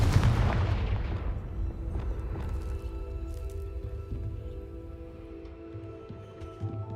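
A Confringo fire spell blasts in the Hogwarts Legacy video game: one loud booming impact at the start that fades into a long rumbling decay over a low, steady game background hum.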